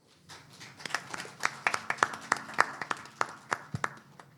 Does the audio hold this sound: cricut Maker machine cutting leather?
no